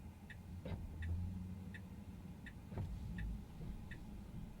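A Tesla's hazard lights tick in a steady, even rhythm, faint clicks about every three-quarters of a second over a low car cabin rumble.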